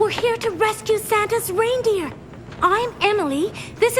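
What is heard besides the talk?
No everyday noise stands out behind the speech.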